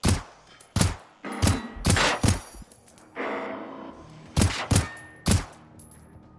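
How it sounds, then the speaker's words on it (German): Loud, close gunshots are fired at an enemy in the video game Generation Zero, coming in irregular single and double bursts with a short lull in the middle. "Und dann schießen wir auf ihn."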